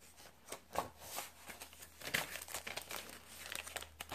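A bag holding a journaling card, part of a mermaid-themed junk journal, is handled with soft, intermittent crinkles and rustles, quiet and close with small bursts scattered across the moment.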